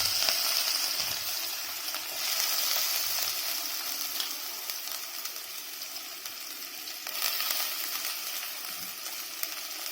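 Onions sizzle in hot ghee with a steady, close, bright hiss and faint crackling, and no voices.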